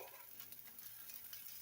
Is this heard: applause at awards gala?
no